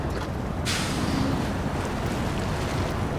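A truck in SnowRunner ploughs through water, giving a steady wash of splashing and rushing water with a low engine rumble beneath it and a sharper surge of spray partway through.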